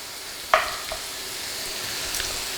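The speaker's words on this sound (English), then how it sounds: "Mike is going to saute that up" Ground beef sautéing in a pan gives a steady, soft sizzle, with one sharp utensil clank near the start and a few faint scrapes of stirring.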